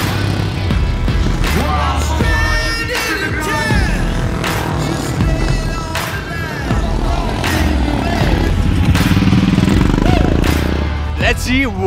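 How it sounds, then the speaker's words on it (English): Heavy 500cc and 350cc motorcycles race in a novice event, engines revving and rising in pitch as bikes pass near and loud, with a commentator talking over the engine noise throughout. "These are heavy motorcycles, most of them. Again, 500cc, 350cc bikes."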